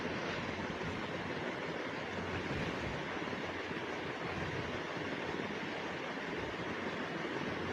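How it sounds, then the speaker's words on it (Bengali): Three eggs fry in a pan, giving a steady dense sizzle and crackle that stays even and close for the whole stretch, with no voices over it. "ভালো করে ভেজে নিচ্ছি ডিমটাকে।"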